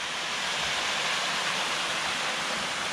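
A waterfall in Lydford Gorge on Dartmoor rushes down to the river below, making a loud, constant, dense hiss that fills the whole stretch without a break.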